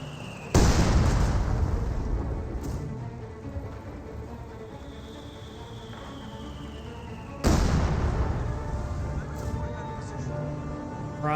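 Artillery rounds landing in the World War II strategy game Company of Heroes 2, two sudden heavy impacts a few seconds apart, each rolling off into a long rumbling decay, with a faint whine and quiet voices underneath.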